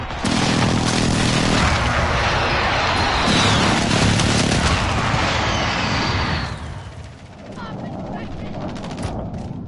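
Gunfire in the Call of Duty beta multiplayer, dense bursts of shots and booming blasts loud and continuous for several seconds, easing off near the end, with a player talking over the action.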